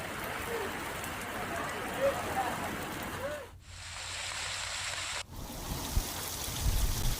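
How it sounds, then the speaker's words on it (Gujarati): Rain falls in Diu as a continuous broadband hiss of water on surfaces, dropping out briefly midway before resuming, with a few scattered splashes. "દીવથી વરસાદની આ તસવીરો સામે આવી છે"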